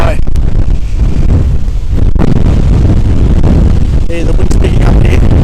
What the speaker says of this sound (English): the wind's picking up here, so I might turn around and start picking up, I think, otherwise the audio is not going to be all that good